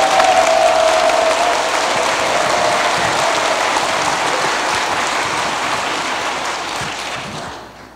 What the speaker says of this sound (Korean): 부모님에서 박수 부탁드립니다.